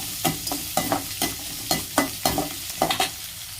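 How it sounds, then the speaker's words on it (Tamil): Onions sautéing in a pan for a ponnanganni greens stir-fry, a continuous sizzle broken by a regular run of sharp scraping stirs from a spatula, close and loud. "வெங்காயம் நல்லா வதங்கிடுச்சு"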